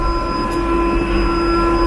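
Ride inside a cable car gondola in Turkey: a steady loud mechanical hum and drone with constant tonal whine throughout, no talk.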